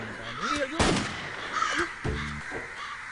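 A crow caws loudly and close in a Tamil film scene, with a sharp gunshot-like burst partway through and a voice speaking over the calls.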